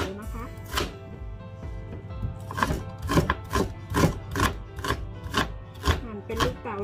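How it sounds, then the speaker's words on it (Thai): A knife dices a large onion into small cubes on a cutting board while making samosa filling. Roughly a dozen sharp, evenly spaced chops sound close, with someone talking over them. "หั่นเป็นลูกเต๋าเล็กๆอย่างนี้ค่ะ"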